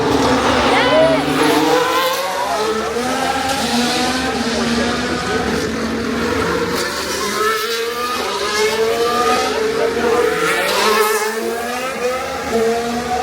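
Formula 1 car at the Singapore Grand Prix powering through the last corners of a qualifying lap, its engine note rising and falling, steady and loud, with a commentator talking over it throughout.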